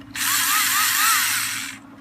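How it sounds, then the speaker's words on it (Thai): A power drill bores holes from the inside of a plastic box, a single close, loud whine lasting under two seconds with pitch sweeping slightly as the bit cuts through, then stopping abruptly. "ใส่หัวสว่านแล้วก็ เจาะจากข้างในเข้าไป เจาะจากข้างในออกข้างนอกฮะเล็งดีๆแล้วเจาะหกรู"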